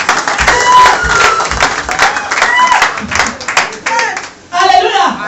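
Audience applause with scattered clapping and crowd noise fills the room, breaking off briefly before a fresh burst swells at the end; voices chatter faintly underneath.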